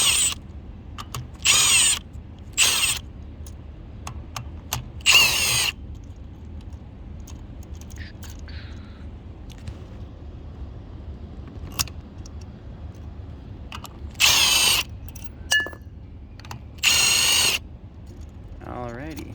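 Clutch spring bolts come off a 2003 Yamaha YZ450F under a power tool, heard as several short, loud buzzing bursts separated by quiet gaps with small metallic clinks in a workshop.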